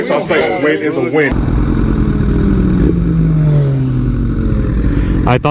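A loud motorcycle engine passes close by, its drone sliding downward in pitch as it goes, with brief voices at the start and end.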